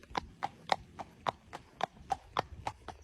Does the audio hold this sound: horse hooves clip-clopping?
yes